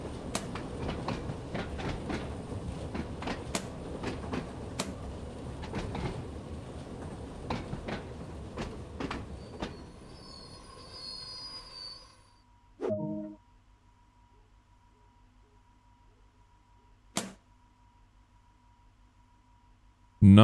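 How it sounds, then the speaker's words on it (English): A train passes in the Train Sim World 2 railway simulator on the Isle of Wight line, a steady rumble with repeated rail clicks that fades out, followed by quiet and a couple of isolated thumps. "I think I hear another train."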